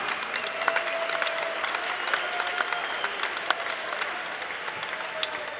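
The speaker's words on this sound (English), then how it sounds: "Ladies and gentlemen, round of applause for both warriors this evening" An arena crowd at a UK kickboxing Super Fight event applauds both fighters after the bout, a steady, moderately distant wash of clapping with occasional sharper claps and cheers rising above it.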